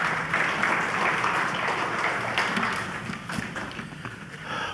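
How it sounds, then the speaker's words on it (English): A church congregation applauding during a service, a dense, steady wash of clapping that carries on without a break from start to finish. "So let's give him a round of applause."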